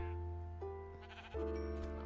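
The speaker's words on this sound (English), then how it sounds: "So now we have a baby sheep." Sheep bleat in the video game Minecraft, two or three short wavering bleats in quick succession, clear and close over a quiet background.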